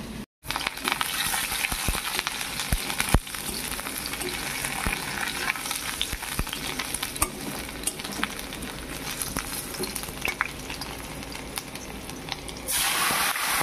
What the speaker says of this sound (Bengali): এখানে বেগুন আলু ভাজা হচ্ছে